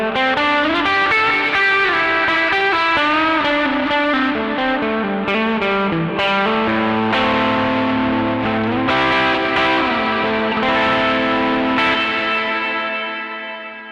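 Electric guitar played through a TC Electronic Arena Reverb pedal set to long pre-delay, a continuous run of sustained, wash-heavy notes and chords ringing out with thick lingering reverb throughout, fading slightly at the end.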